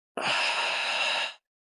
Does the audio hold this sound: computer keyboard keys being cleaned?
no